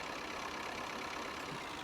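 Farm tractor engine running during seed drilling, a steady, even mechanical hum at moderate distance, with no talk over it.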